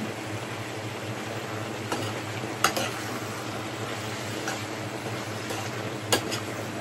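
Food sizzles in a pan while a utensil stirs it, with a few sharp clinks and scrapes against the metal standing out above the steady frying hiss.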